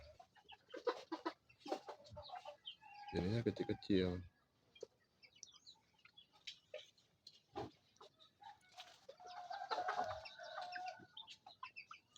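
Small chickens resembling jungle fowl, kept on a farm in Pidie Jaya, Aceh, cluck and call in short bursts, with a louder burst in the middle, under someone talking nearby.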